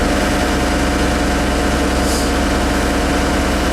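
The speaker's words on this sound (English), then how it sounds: "You don't need the engine ramped up or anything like that." The engine of a 612T trommel screen runs at a steady low idle, a loud, unbroken mechanical drone with no change in pitch or speed.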